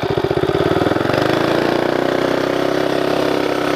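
An 11hp mini bike engine with a CVT launches from idle, its chugging beat quickening and smoothing into a steady, loud mid-pitched drone.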